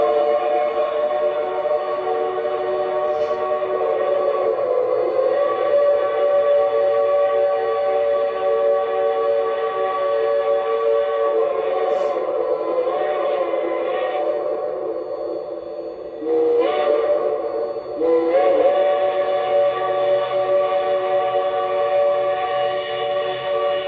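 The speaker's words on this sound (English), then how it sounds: "is the crossing whistle." A Bachmann two-truck Shay model locomotive sounding its crossing whistle: sustained multi-tone steam whistle blasts, loud and close, holding for long stretches with short breaks and re-sounds near the end over a faint mechanical hum.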